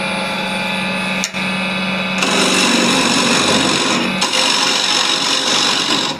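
A square end scraper cuts a recess into a katalox wood blank on a lathe, a loud, steady buzzing scrape with a brief break early on and changes in tone as the cut bites harder.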